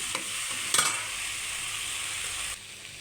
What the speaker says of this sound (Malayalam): ഈ എണ്ണ ഈ എണ്ണയിൽ തന്നെ നന്നായിട്ട് വേവിച്ചെടുക്കണം